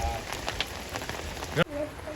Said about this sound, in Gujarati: જો હવે વરસાદ આવી ગયો